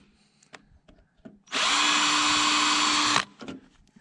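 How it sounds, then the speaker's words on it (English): A power drill bores a hole during a trailer hitch installation on a service truck, one loud burst of about two seconds with a steady motor whine, framed by light clicks and handling noises before and after. "you can use a drill bit the same size as the hole"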